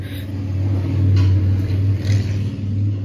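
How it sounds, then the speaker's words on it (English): A motorcycle passes by outside, its engine rumbling steadily, swelling through the middle and fading slightly, heard from indoors with no talk. "there was a motorcycle driving by"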